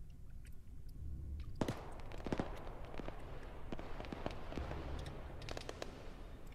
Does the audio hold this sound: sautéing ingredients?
no